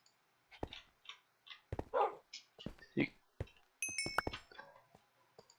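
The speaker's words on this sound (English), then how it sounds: "Good dogs." Tamed wolves in the Minecraft video game give a series of short, sharp barks and a few whimpers, spaced unevenly in quick bursts, with faint clinking game sounds around them.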